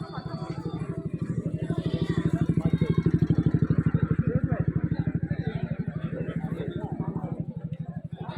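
A motorcycle engine runs close by with a rapid, even putter that swells and then eases slightly as it passes, loud throughout; a voice speaks over it.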